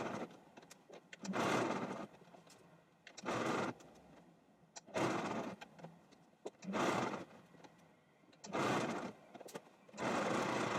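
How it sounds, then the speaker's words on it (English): A sewing machine runs a straight stitch through upcycled denim in about six short whirring bursts, each a second or so long, separated by quiet pauses, close and clear with no talking. "So we're just going to go and sew."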